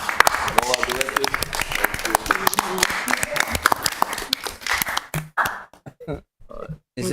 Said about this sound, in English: Let's give our finance team a round of applause.